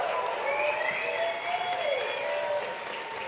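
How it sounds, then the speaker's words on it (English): Audience applause at a winter sports speaker event, a continuous even wash of clapping from a seated crowd, moderately distant, with a few faint whoops or voices riding over it. "we can clap a little more for the Courage Project and Bree Moore"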